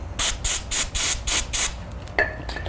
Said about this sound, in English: Rather than spray it all over the place, put it onto a paper towel or a shop towel